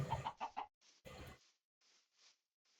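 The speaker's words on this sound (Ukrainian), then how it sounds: "Тут тільки кури." Several short chicken clucks come in quick bursts, then softer scattered clucks follow, sounding synthetic and game-like, from Minecraft chickens.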